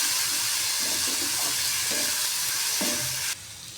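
Moong dal frying in oil on low heat, a continuous bright sizzle with soft scraping and stirring strokes, close and fairly loud, cutting to a slightly different sizzle near the end.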